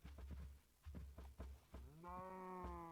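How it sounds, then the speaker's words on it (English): Cows in Minecraft moo several times over low repeated thumps, ending in one long harmonic moo near the close. "I was just getting some cows and bringing them over to my house because I need cows"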